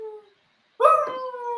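A dog gives a short howling yelp, then after a pause lets out a louder, drawn-out whining howl close by, with no talk over it.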